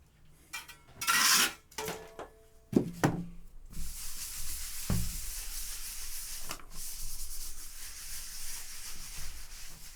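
A metal tool scrapes and gouges soft plaster in scattered bursts: a loud rasping stretch early, then sharp knocks and clinks, then a long quieter scratchy hiss.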